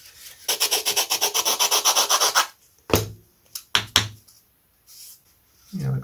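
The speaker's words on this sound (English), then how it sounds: "that needed a little bit of sanding on the heel a little bit" Wood is sanded by hand at the heel of a Da Vinci flyer fuselage part in quick, rhythmic back-and-forth strokes, then a few separate rubs and scrapes follow with pauses between them.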